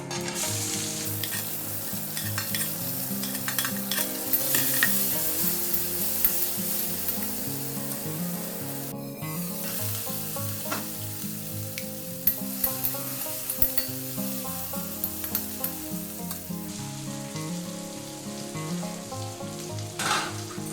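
Onions sizzle and crackle in hot oil with cloves and cumin, stirred steadily through the frying for a fish curry with potato and pointed gourd; the loud, dense frying holds throughout, with scraping stir strokes.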